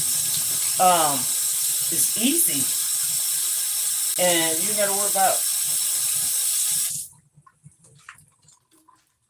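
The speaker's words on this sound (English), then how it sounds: "I'm rinsing them with cold water." Cold tap water runs steadily into a kitchen sink as onions are rinsed, a constant hiss that carries under a woman's speech and then stops abruptly, leaving faint drips and small handling clatter.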